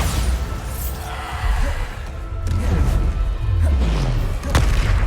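Bombarda blasting spells go off in Hogwarts Legacy, a string of booming impacts and bursts with a sharp crack near the end, surrounded by steady battle noise.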